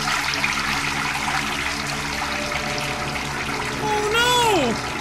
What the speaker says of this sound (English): Babbling Brook?